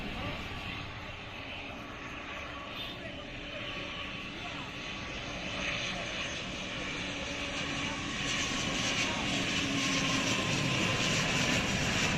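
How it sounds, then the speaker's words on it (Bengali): An Air Astra propeller airplane drones steadily in the distance as it approaches to land at Hazrat Shahjalal International Airport, growing slightly louder, with faint voices and outdoor background noise. "এয়ার এস্ট্রা মডেলের বিমানটি এখন অবতরণ করবে"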